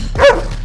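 A single short dog bark, close and fairly loud, rising and fading within a fraction of a second against a faint background hum.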